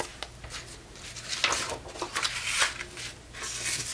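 Paper bag pockets being folded for a craft project give close crinkly rustles and soft scrapes of paper, irregular and steady throughout with no talking.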